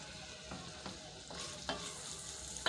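Carrot softening in a hot pan as the base for a coconut milk sauce, giving a steady, quiet sizzle with a few soft utensil scrapes at intervals and no voices.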